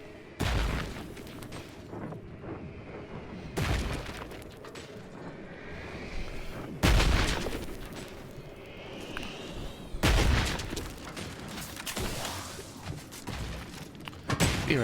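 Enemies fire on the player in The Outer Worlds 2: about six heavy, booming shots land a few seconds apart, each with a sharp attack and rumbling tail, over a steady mechanical ambience.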